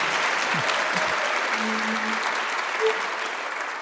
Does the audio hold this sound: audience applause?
yes